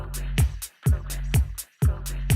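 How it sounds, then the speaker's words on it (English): A looping electronic beat with heavy low-end thumps and bright hi-hat bursts, the kick drum muted for a transition, cutting in and out in short repeating phrases with brief near-silent gaps. "mute the kick drum just to make a quick transition that'll sound something like this"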